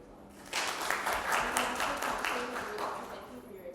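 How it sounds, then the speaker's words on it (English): Audience applause breaks out for student council candidates at the end of a freshman council speakout event, a steady wash of many hands clapping that rises suddenly and holds at moderate loudness throughout. "Let's give our candidates a round of applause."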